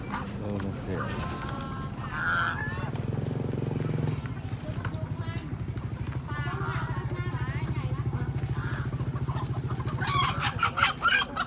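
Chickens cluck and call repeatedly over a steady, droning background hum at a market where chickens are sold by weight, with voices mixed in throughout.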